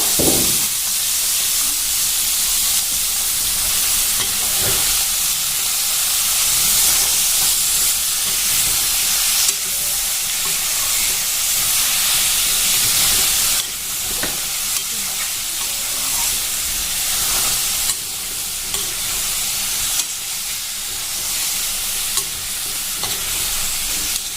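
Pumpkin and potato pieces fry with broiler chicken in a pan, giving a steady close sizzle and hiss with occasional stirring scrapes throughout.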